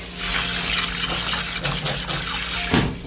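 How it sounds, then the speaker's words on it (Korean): Cold tap water gushes steadily into a pot of freshly boiled corn kernels in a kitchen, a close, continuous splashing pour lasting a few seconds before tapering off. "찬물로 한번 데쳐줘요."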